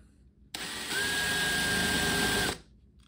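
A power drill fitted with a countersink bit bores into a pinball playfield in one short, close burst of high motor whine lasting about two seconds, with quiet before and after.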